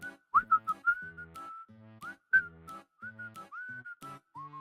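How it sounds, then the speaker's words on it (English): A person whistles a tune in short melodic phrases of bright, clear notes with brief pauses between them, close and fairly loud, with no talking. "Sorry if the whistling's way too loud."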